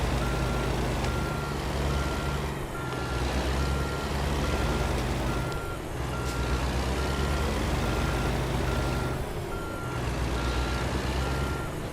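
A truck reverses in American Truck Simulator, its backup alarm beeping steadily in a regular rhythm over a loud, continuous engine drone, with no voices.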